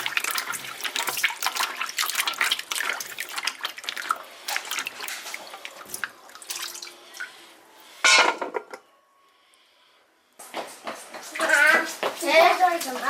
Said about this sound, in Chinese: 我们把这个表面给它洗干净